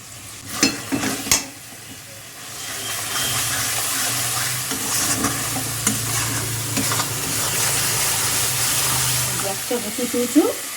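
A spice masala, with salt and turmeric added, fries in oil and is stirred steadily, giving a loud continuous sizzle and hiss broken by scraping clatters and a few sharp knocks.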